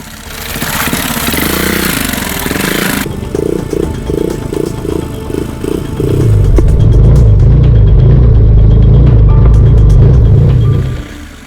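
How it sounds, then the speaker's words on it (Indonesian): A motorcycle engine revs and labors loudly nearby as it crosses a river, rushing water and splashing mixed in, the engine note rising and pulsing as it pushes through. "motor andalan ini kembali ditantang menaklukkan sungai"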